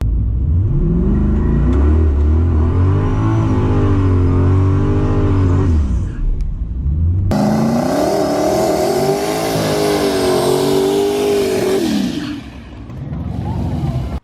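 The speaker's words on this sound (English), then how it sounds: "Once you get the tires spinning, it takes like 10 horsepower to keep them going." A turbocharged racecar holds a burnout with its tires spinning, the engine revving loud and close in a steady, wavering drone. Revs dip briefly before a second sustained, higher-pitched surge, then the sound fades off at the end.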